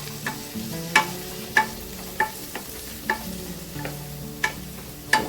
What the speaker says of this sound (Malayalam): ഇഞ്ചി ഞാൻ ചെറുതാക്കി കട്ട് ചെയ്തത് ഇട്ട് കൊടുക്കണ്ട് ഒന്ന് നല്ലോണം വഴന്ന് വരട്ടെ